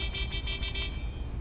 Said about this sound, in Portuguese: Será que eu ouvi minha buzina?